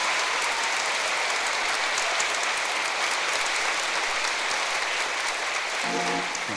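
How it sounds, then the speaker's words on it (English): Dense, steady audience applause at a comedy show, loud and unbroken throughout like a wash of many hands, with a faint voice beginning to emerge near the end. "thank you very much, ladies and gentlemen, for that deafening applause"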